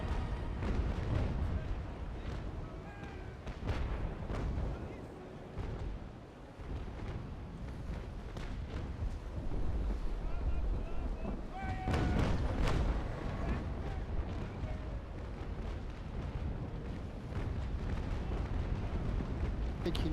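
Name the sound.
ship cannon fire in video game Naval Action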